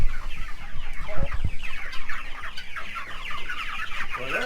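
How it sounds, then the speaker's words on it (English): Meat chickens on a homestead cluck and squawk up close, a busy overlapping chorus of short calls with a few louder bursts, no talking. "Let's go in here and feed these meat chickens."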